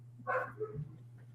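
A dog barks once or twice in the background, a short burst of yips at moderate distance over a steady low hum, with no talk.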